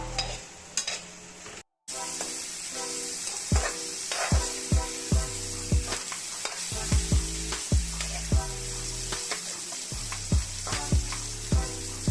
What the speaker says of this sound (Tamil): சிக்கன் வந்து நல்லா ஃப்ரை ஆயிடுச்சு.